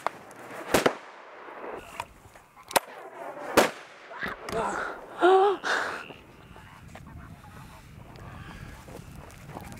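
Sharp bird-scaring bangs from firecrackers or a cannon in a Camargue wetland, several loud cracks spaced irregularly through the first seconds, followed by a burst of startled bird calls and honks before fading to a quieter background.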